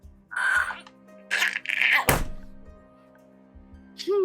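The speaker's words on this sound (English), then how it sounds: "that was my hand on the table" A hand slams down once on a table, a sharp broadband thump standing out among bursts of voice-like sounds and a steady low hum.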